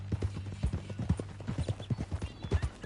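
Horse hooves clip-clop at a walking pace in Red Dead Redemption II, a steady run of close, distinct thuds over a low background hum, with a faint voice only briefly in the mix.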